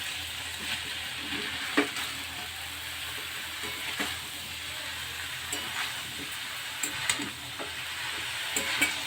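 Cabbage frying with spices in a pan for a dry cabbage dish, continuous close sizzling with soft scraping stirs and occasional clicks of the utensil, no talking.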